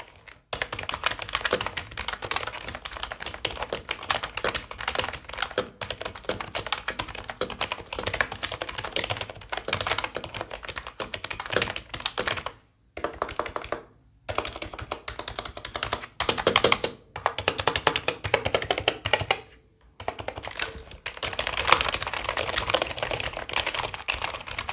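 Typing on a Mamba K620 wireless RGB keyboard, a quiet membrane-style board, gives a close, rapid, continuous patter of soft key taps, broken by a few brief pauses, with no talking.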